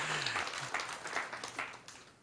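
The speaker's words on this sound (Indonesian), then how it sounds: "Kasih tepuk tangan buat Tuhan." Short burst of scattered applause from a church congregation, uneven claps fading after about two seconds.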